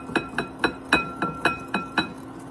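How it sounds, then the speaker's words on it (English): A whisk clinks steadily against the bowl while heavy cream is slowly beaten into an egg yolk mixture for crème brûlée: about eight bright, evenly spaced taps, close and moderately loud, with no talking. "I'm going to whisk this very slowly so that I don't scramble the eggs"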